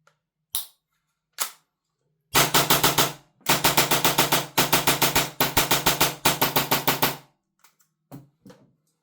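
Airsoft Glock pistol fitted with a gas magazine fires in semi-auto: a few isolated pops, then long runs of rapid, evenly spaced sharp cracks, loud and close, ending in scattered lighter clicks.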